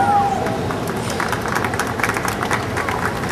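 Audience crowd at a Concorde G-BOAD press opening at the Intrepid, cheering and clapping in a dense, continuous burst of applause with scattered whoops, fairly loud and steady throughout.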